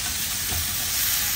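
Fish added to a pot of crab porridge cooking on the fire, giving a steady hiss and sizzle with faint stirring, close and continuous, no talk.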